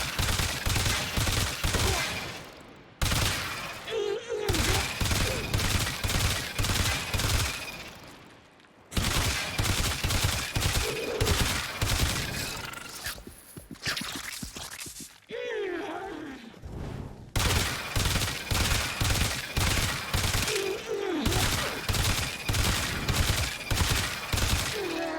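Hema rifle from Warframe firing in rapid bursts, loud and close, with short pauses between volleys and occasional impact or effect sounds between them.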